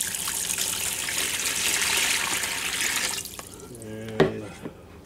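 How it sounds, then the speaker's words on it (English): Water pours into a homemade parrot egg incubator, a steady trickle and splash for about three seconds, then quieter drips and a few small clunks. "Okay, then I fill it with water,"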